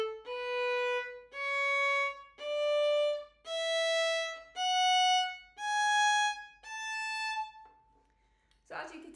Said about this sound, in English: Tenuto might sound like this.